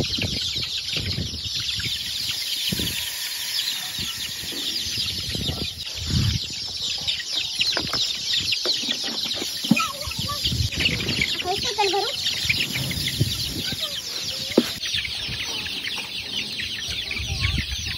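Chickens in a poultry shed cluck and call steadily, close and overlapping, over constant farm background noise, with faint voices talking at times.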